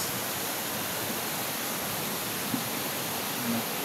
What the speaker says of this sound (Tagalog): Sa gilid lang tayo ng sapa.